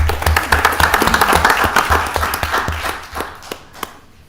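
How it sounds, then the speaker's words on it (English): A council meeting audience gives a round of applause, the claps close and fairly loud at first, then thinning out to a few scattered final claps. "So let's give them another round of applause."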